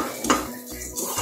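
Poppy seeds are stir-roasted in a pan, with a few short metallic scrapes and clinks of a spoon against the pan over a faint sizzle, close and brief.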